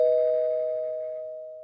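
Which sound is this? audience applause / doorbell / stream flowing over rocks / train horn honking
doorbell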